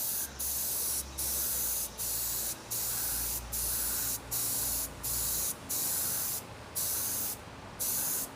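Spray gun laying a first base coat on a car panel in a small auto paint repair, heard as repeated hissing bursts of roughly half a second to a second each, separated by short pauses, close and loud.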